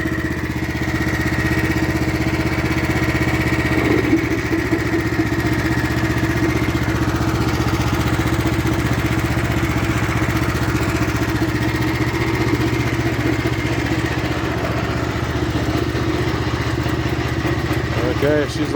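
A BCS 853 walk-behind tractor engine runs steadily with its PTO engaged, a loud, close, continuous mid-pitched drone with mechanical clatter that holds the whole time, its tone shifting slightly after a few seconds.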